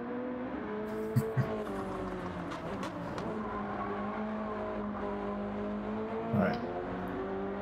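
Race car engine in Gran Turismo 7 on Trial Mountain, a steady sustained drone with shifting pitch and a few brief tire chirps, continuous and fairly loud throughout.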